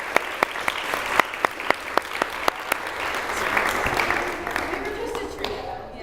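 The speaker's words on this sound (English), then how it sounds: "Round of applause, everybody." An audience at a live machine performance session breaks into a round of applause, beginning with a handful of distinct, evenly spaced claps that thicken into a fuller patter of clapping before fading out.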